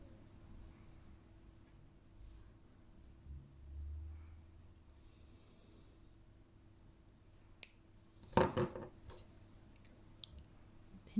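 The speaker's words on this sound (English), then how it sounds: "Snip off the excess." Wire cutters snip the excess wire off a malachite bracelet, giving a single crisp click and a short cluster of snapping ticks against a very quiet background.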